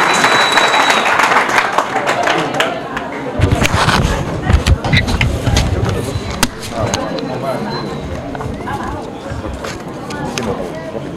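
An audience at a Senegalese political event applauds and cheers as Dr. Cheikh Tidiane Dièye is invited to speak, a dense, loud wash of clapping with sharp bangs and crowd noise, while a voice talks over it.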